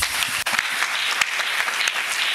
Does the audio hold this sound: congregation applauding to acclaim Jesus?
yes